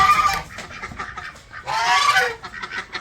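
Loud honking calls from farm fowl, including guinea fowl, a couple of bursts close by with quieter clucking between them.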